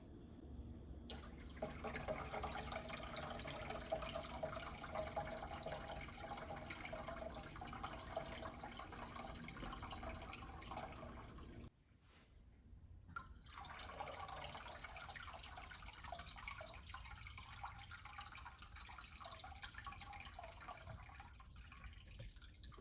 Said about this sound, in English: I still have some water filtering through